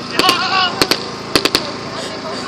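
Suppressing gunfire at a WWII battle reenactment at an outdoor forties festival: several sharp, loud blank shots in irregular pairs and clusters ring out over a steady crowd and field hubbub, with voices talking throughout.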